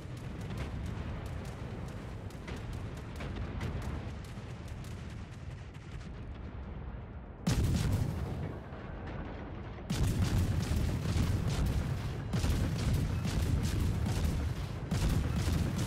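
Naval guns firing at a target in World of Warships, with loud booming salvos and crackling blasts in repeated bursts, sharp heavy volleys recurring through the clip over continuous battle rumble.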